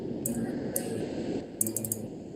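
Someone typing on a computer keyboard while entering a command, a few light, quick clicks and short bursts of keystrokes at close range over a low hum of room noise.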